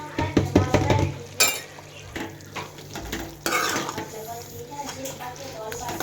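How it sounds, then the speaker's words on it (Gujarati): Raw tomato sambharo with gram flour and spices is stirred in a pan: a spoon scrapes and clinks against the metal in uneven strokes, close by, with a voice speaking now and then. "સરસ મિક્સ કરી લઈએ"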